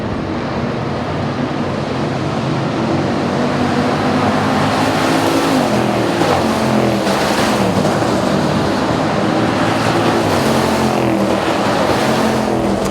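A 475 hp Dodge Durango SRT engine accelerates hard, a loud, close, continuous roar that rises and shifts in pitch midway.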